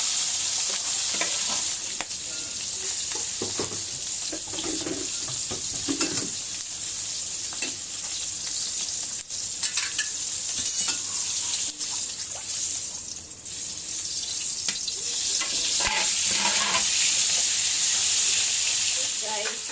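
Dried fish frying in oil in a pan, a loud continuous sizzle with stirring scrapes and clatter throughout, steady and close.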